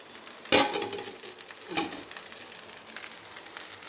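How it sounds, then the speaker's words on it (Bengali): Rice, cashews and raisins stirred in hot ghee in a pan, a sharp scrape and sizzle early on, another stir a second later, then a low steady frying hiss. "ঘিয়ের ওপর কাজু কিশমিশ একসাথে নাড়াতে থাকবো।"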